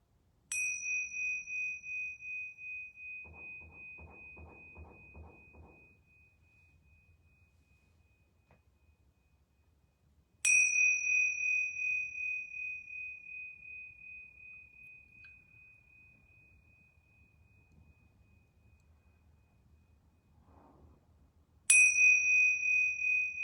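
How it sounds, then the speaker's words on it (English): Yoga bells rung three times, each a clear bright ding struck roughly ten seconds apart and left to ring out and fade slowly into near silence, with faint soft rustling between strikes. "I'm going to ring these yoga bells 3 times."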